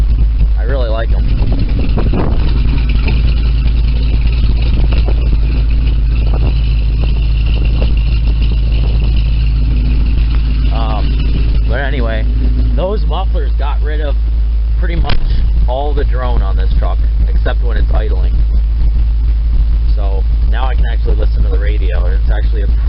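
A 1972 Chevy engine idles through welded Flowmaster-style knockoff mufflers with a steady, deep, loud rumble that runs throughout beneath continuous talking.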